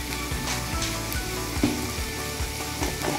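Cabbage and mixed vegetables sizzle and fry steadily in a pan for a vegetable chicken biryani, a continuous close crackle with occasional stirring scrapes and no talk.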